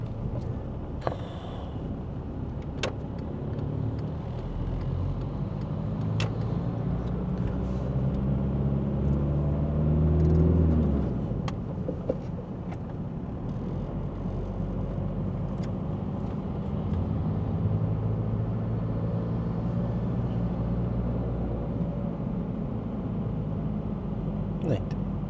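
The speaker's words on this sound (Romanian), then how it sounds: "Pregătim plecarea mașinii, băgăm a întâia, da?" A driving-school car pulling away in first gear on a street in Galați, engine rumble rising as it moves off, with an instructor talking over the drone.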